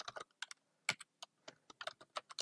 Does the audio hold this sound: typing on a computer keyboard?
yes